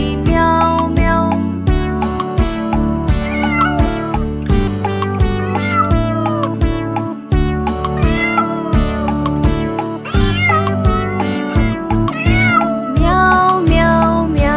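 Sung voices imitate a cat's meow over a bouncy, loud, rhythmic backing track in a Hindi children's nursery rhyme, the meows repeating steadily throughout.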